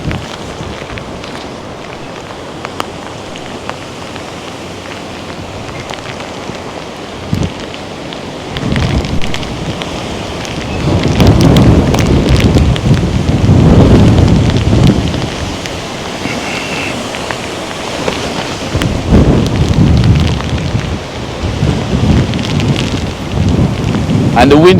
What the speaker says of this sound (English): And the wind is now picking up again